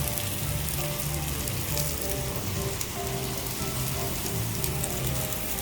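Wagyu beef fries on a grill, with a dense, constant crackling sizzle and oil spattering close and loud throughout, under faint tonal background sounds.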